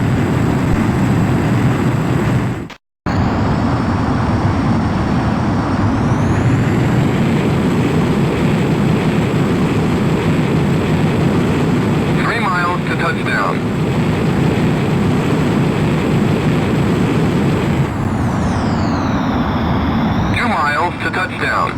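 A jet fighter roars steadily on its landing approach in the combat flight game Ace Combat X. The engine drone is loud and continuous, dips briefly near the start, and shifts slightly in pitch, with radio voices speaking over it.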